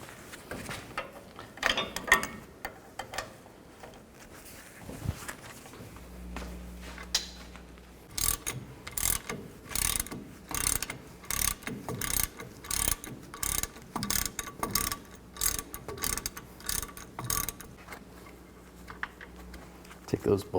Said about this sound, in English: Use an 18mm socket and loosen up the caliper bracket bolts